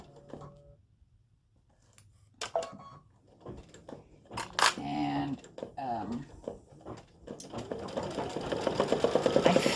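An embroidery machine stitching satin-stitch text on a flip-flop appliqué design, its rapid, even needle rhythm building toward the end after a stretch of talking and handling noises.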